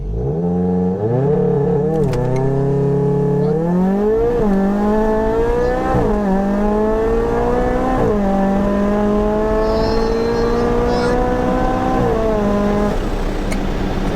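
An 800bhp VW Golf R on a full-throttle acceleration run, engine roaring loud and close with rising revs broken by several quick gear-change dips, climbing pitch after each shift.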